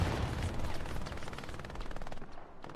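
Sustained machine gun fire from a battle in the video game Hell Let Loose, rapid continuous bursts layered with other distant gunfire, loud and steady throughout without talk.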